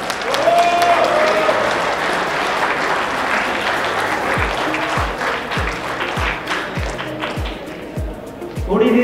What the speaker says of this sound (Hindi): आप सबकी भरपूर तालियों में उस्मान डाडी।